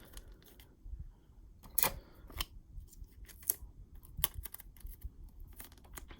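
A small piece of heat tape being torn and pressed into place on an acrylic keychain, a few sharp close snips and peeling crackles spaced apart, with soft handling noise between them and no talking.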